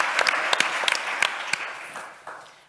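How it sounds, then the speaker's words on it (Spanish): A conference audience claps after a live-case session on valvular interventional cardiology, crisp individual claps over a steady wash of applause that fades out toward the end, no talking. "recibir un aplauso de todos y la enhorabuena por un caso muy complicado"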